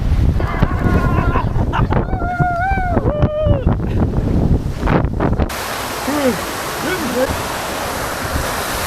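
Water park ride at Atlantis The Royal, Dubai: loud rushing water and splashing with wind buffeting the microphone, and excited voices and shouts over the first half. The second half turns to a steady roar of water.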